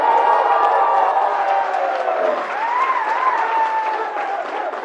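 An audience claps through a business motivational seminar, a thick steady wash of hands with some cheering and tonal whoops layered on top, holding at a constant loud level from start to finish.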